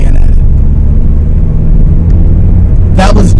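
A manual car's engine revs up as gas is added while in third gear, a loud, steady rumble that swells, with brief higher bursts near the end.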